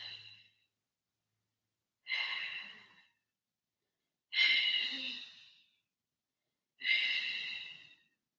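Four slow, deep breaths during a yoga pose, each a soft airy exhale lasting about a second, spaced a couple of seconds apart with silence between, close and gentle.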